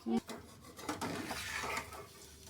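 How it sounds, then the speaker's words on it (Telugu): A lid clatters onto a cooking pot of spiced chicken with a brief metallic knock, followed by soft rubbing and light handling noises and faint, low voice murmur. "దీనికి మూత పెట్టేద్దాం"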